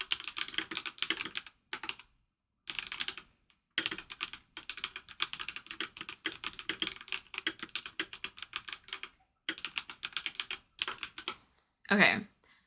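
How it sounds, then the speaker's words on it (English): Computer keyboard typing as ASMR during a live crochet stream, steady close clicking in bursts broken by short pauses, with one louder thump near the end. "Here's some keyboard ASMR, so I won't talk as I'm typing."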